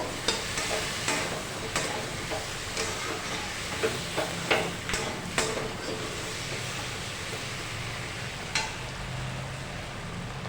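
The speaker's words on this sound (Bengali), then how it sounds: "এবার আমরা কচু আর আলুর সাথে মশলাটা একটু মিশিয়ে নেব।" Spice paste being stirred into pieces of taro and potatoes in a frying pan for a Bengali fish curry, with repeated scraping stirs over a steady sizzle, close and continuous, with no voices.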